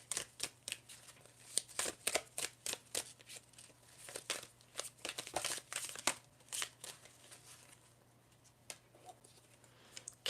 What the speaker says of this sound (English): Going to shuffle to get one more card for you